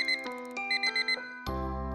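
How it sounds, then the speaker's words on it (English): An alarm clock in a video game beeping in a quick electronic pattern of short chirping tones, clear and close, ending in a sustained buzzing chord, no voices. "My catalog starts beeping. Oh, my alarm!"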